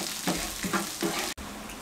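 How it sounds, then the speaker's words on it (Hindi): Cumin seeds fry lightly in oil in a pan over medium-low flame, a steady close sizzle with soft stirring scrapes and a brief cut near the end. "इसको हम मीडियम टू लो फ्लेम पे 1 मिनट के लिए इसके अंदर इस तरीके से हल्का सा फ्राई कर लेंगे ताकि खुशबू आ जाए"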